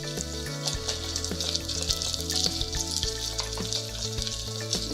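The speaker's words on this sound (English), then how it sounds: "Getting those onions all nice and caramelized." Onions caramelizing in a pan on the stove for a coconut and cauliflower summer soup, a steady close sizzle and crackle with occasional light stirring clicks.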